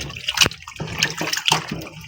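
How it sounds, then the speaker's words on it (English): Raw beef being washed under running tap water for boiled beef with potatoes, splashing and gurgling with intermittent sharp drips and bursts, close and fairly loud. "So you wash our meat"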